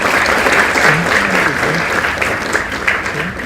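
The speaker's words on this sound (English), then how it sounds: "Please give a big round of applause" Loud, steady applause from an audience at a university gathering with a space-science guest, dense clapping filling the hall without letup.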